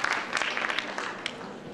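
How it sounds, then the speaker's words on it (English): An audience claps at a 2007 Rep Day event, a brief burst of scattered, moderately loud applause that thins out quickly. "please give me a round of applause"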